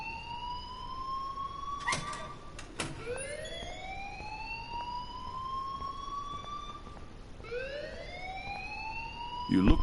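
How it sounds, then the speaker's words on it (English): A fire alarm ringing in the video game Life is Strange, a loud repeating electronic wail that sweeps upward in pitch, cycling several times with sharp clicks between sweeps, indoors and close. "please turn off that alarm since that's your job"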